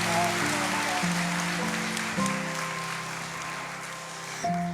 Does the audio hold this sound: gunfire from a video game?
no